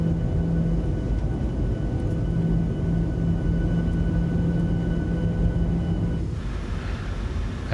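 Boeing 737-800 engines spool up for takeoff in a flight simulator game, giving a loud, steady, low roar and rumble that holds throughout and eases slightly near the end, with no talking.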